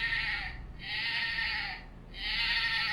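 A sheep bleat sounds from a musical children's picture book, repeated three times in even, sustained wavering calls, clear and close with no talking.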